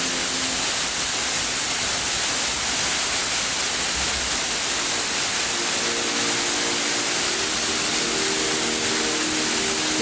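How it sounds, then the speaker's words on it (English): Loud, steady rushing roar of a waterfall heard up close on a hike, its broadband wash amplified by the surrounding rock and continuing unbroken throughout with no voices. "The sound is amplified of the water."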